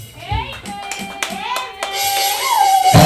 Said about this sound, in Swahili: Jamani, mpigieni Bwana Yesu makofi.